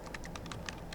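Rapid keystrokes on a computer keyboard while entering commands, a quick run of about ten light clicks in one second, close and fairly quiet.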